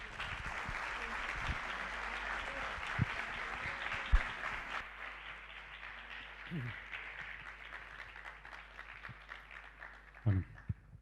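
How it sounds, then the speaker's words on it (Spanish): An audience at a lecture event in Buenos Aires claps loudly for about five seconds, then the applause thins to scattered claps and fades into room noise with a few thumps. "Un fuerte aplauso"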